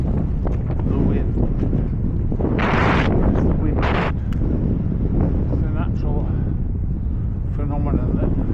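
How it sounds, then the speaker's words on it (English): Strong headwind on a ride home roars and buffets the microphone without a break, a dense, loud rumble with a couple of brief gusting surges partway through. "Really paddling against the wind."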